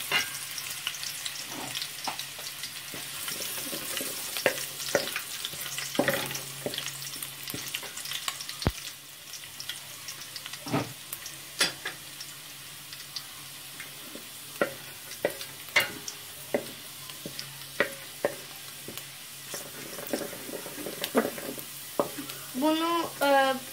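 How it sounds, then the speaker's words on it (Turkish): Garlic sizzles and fries in hot oil in a pan with a steady crackling hiss, broken by intermittent clinks and scrapes of a spoon stirring, close and fairly quiet with no talking. "Ve biraz bunu kızartıyoruz."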